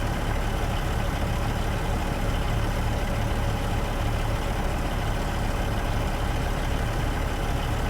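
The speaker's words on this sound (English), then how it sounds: "love the sound of that cat engine." Caterpillar truck engine in American Truck Simulator idling and rumbling steadily, a dense, continuous low diesel drone with no pauses.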